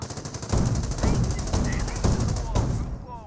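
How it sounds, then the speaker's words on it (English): In the World War II strategy game Company of Heroes, .30 caliber machine guns fire in sustained, rhythmic bursts. The dense, loud rattle keeps going with regular pulses and distant battle noise mixed in. "30 cals are firing away all across the front line"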